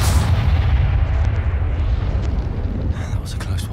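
A Confringo blasting spell explodes in the wizarding game Hogwarts Legacy, a loud, rumbling roar of fire and debris. It sustains heavily before fading, and a few sharp clicks come at the end.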